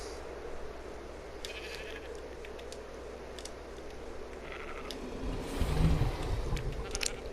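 Sheep bleating in the game ARK: Survival Evolved, on the Lost Island map, come through as faint, scattered calls over a steady ambient hum, with a louder rumble near the end.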